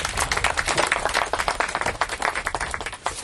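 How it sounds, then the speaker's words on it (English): Audience at a middle school groundbreaking ceremony claps for the principal, a dense, steady round of handclaps from a nearby crowd lasting a few seconds without talk. "Give our principal another round of applause."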